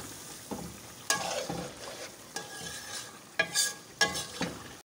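Chicken badami qorma with soaked almonds being roasted and stirred in a pan, a steady sizzle broken by scraping spoon strokes and clanks against the metal, close and fairly quiet with no talking.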